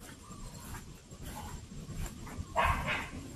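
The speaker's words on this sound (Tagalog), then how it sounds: "May aso lang." A dog barks a couple of times at a distance, faint under outdoor background noise at a pottery place in Pampanga.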